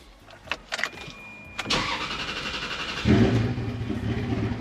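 A Ferrari engine cranks and fires up after a battery replacement, a few short starter bursts giving way to a loud catch and a steady, rumbling idle, close and with no talking.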